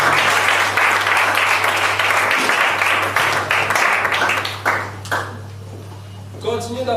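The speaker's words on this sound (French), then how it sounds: "Continuez d'applaudir, continuez d'applaudir." Audience applause at an entrepreneurs' certificate ceremony, loud sustained clapping from a crowd that thins into scattered claps near the end, with a voice speaking over it and a steady electrical hum underneath.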